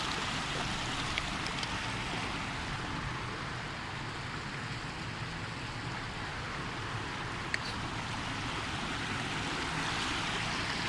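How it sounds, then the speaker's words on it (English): Floodwater gushes across a flooded road beside a field in a steady, dense rushing wash that continues throughout without a break. "Look at all this water just gushing here."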